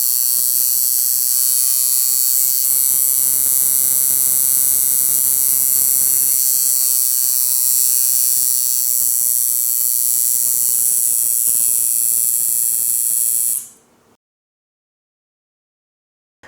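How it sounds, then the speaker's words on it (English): A tattoo machine being tuned by turning its contact screw gives a loud, steady electric buzz close by, with the pitch shifting slightly as it runs, before it cuts off abruptly into silence near the end. "you'll be able to actually hear the machine speed up and slow down as we turn the screw"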